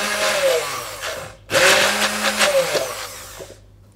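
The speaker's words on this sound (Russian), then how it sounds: "Я пробила блендером ягоды и свежую мяту." A blender whirs in two bursts separated by a brief pause, its motor pitch shifting as it grinds through frozen berries.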